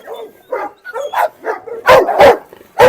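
An Anatolian shepherd dog barks repeatedly at close range, a string of loud bow-wow barks interspersed with whimpering yips, with no speech.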